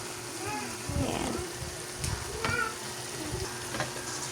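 Bell pepper and vegetables with corned beef sizzle in a hot pan while being stirred, with scraping strokes and soft frying crackle throughout, close by.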